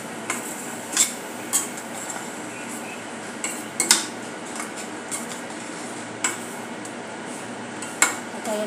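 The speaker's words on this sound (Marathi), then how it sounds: "परतून घेऊया।" Spices with coriander powder and garam masala sautéing in a pan for drumstick and potato curry, marked by repeated clinks and scrapes of a metal spoon against the pan over a soft background sizzle.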